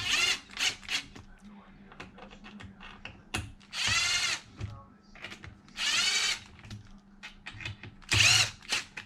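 A power driver loosens screws on the receiver box of an Arrma Limitless 8S RC car, in short whirring bursts of varying length separated by pauses, close and clear, with small clicks and handling noises between.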